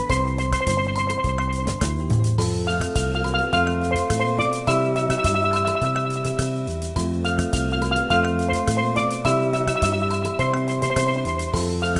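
Upbeat Gelato Beach stage music from the Nintendo GameCube game Super Mario Sunshine, a steady, dense melodic loop with bouncy bass notes and bright layered tones playing continuously at even loudness with no talking.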